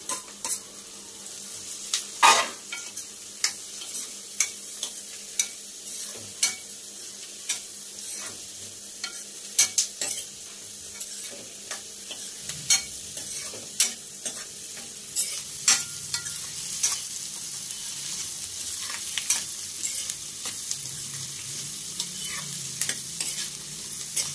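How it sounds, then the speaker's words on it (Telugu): Raw banana pieces fry with onions in a pan, a constant close sizzle overlaid with frequent rhythmic scrapes and taps of a spatula stirring throughout. "ఇప్పుడు అరటికాయ ముక్కలు వేసుకొని వేయించుకోవాలి"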